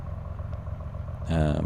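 A Carenado 170B light aircraft's piston engine idles steadily in Microsoft Flight Simulator, a low continuous rumble that swells louder near the end.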